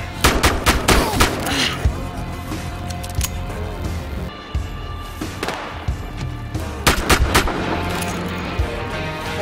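Rapid gunfire from Battlefield Hardline, a police shooter video game, fills the clip with loud clustered bursts of shots and heavy thuds, a brief pause near the middle, then another dense volley.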